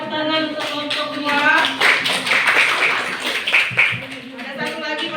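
A classroom of students claps for a group, with quick rhythmic hand claps in close succession amid some chatter and laughter.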